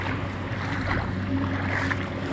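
Outdoor ambience near a boat on the sea in a rural province, with a steady low engine-like hum and broadband wash of wind and water, continuous and fairly loud.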